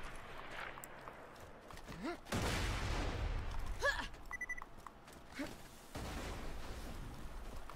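Grenade blasts in the video game Borderlands 2 burst out twice as broad loud whooshing explosions, each lasting a second or more, amid game effects and someone talking over them.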